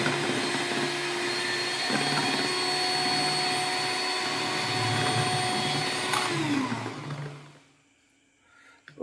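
A blender whirs loudly and steadily while mixing homemade fabric conditioner, its motor droning for several seconds before winding down and stopping, with a short click and hum afterward.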